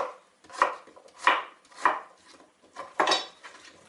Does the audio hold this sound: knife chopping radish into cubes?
yes